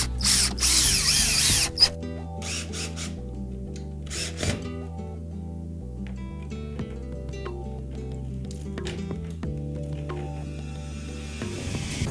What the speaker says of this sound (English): Now we'll put the screws down through it.